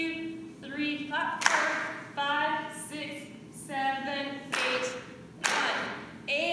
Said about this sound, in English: 1, 2, 3. Clap.